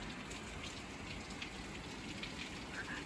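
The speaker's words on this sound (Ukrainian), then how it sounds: "так, просто дощик, як дощик" Steady rain pours down on a house roof during a storm, a dense continuous hiss close by with no voices.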